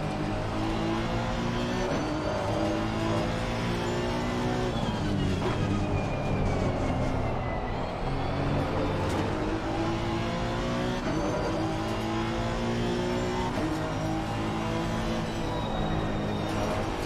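Porsche race car on the Watkins Glen circuit in a racing video game, its engine a loud, continuous close drone climbing and dipping through upshifts and downshifts for the whole stretch.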